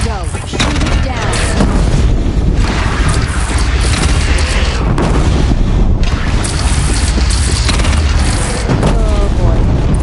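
In Horizon Zero Dawn, a bridge is shot down and explodes, giving loud booming blasts and crashing debris over a dense, continuous din of battle, with voices speaking at times.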